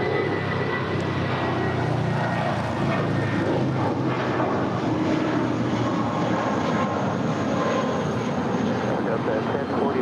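Jet roar of a JetBlue Airbus A320 airliner at LAX, a steady, dense broadband rumble that holds for the whole stretch, with faint voices underneath.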